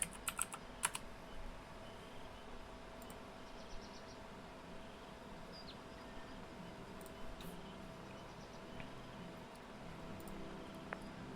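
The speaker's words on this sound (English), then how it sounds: "We're gonna type in Skull Sadamon." Keys clatter on a computer keyboard while a search is typed in, a steady stream of light clicks with a few sharper taps, fairly close under a low background hum and no talking.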